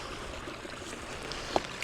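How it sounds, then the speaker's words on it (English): Running water of a small hill stream in the Southern Uplands, a continuous soft rushing and trickling close by with no voices. "one thing I have come across though is some running water"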